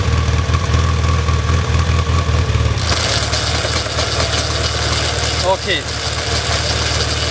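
Motorcycle engine idling steadily up close, with its load changing partway through as it drives a dynamo, while a person speaks briefly over it.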